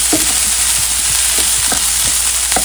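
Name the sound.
sausages sauteing in a pan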